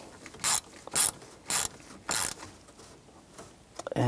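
Ratcheting clicks from tightening a bolt on a 1999-2006 Chevrolet Silverado 1500 steering column, heard as four short, close bursts at an even pace, followed by a few quicker clicks at the end.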